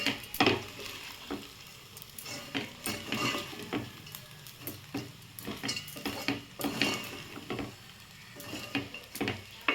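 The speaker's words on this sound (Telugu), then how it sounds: "ఇప్పుడు ఈ పల్లి పౌడర్ మొత్తం కూడా మనము మిక్స్ చేసుకుందాం" Peanut powder being stirred into food in a pan, with repeated scraping and clinking of a utensil against the pan over a soft sizzle, close and steady with no talking.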